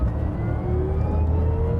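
Pininfarina Battista electric hypercar accelerating hard, a steady loud drivetrain whir with rising whine tones over a low road rumble, continuous and close, with no talking.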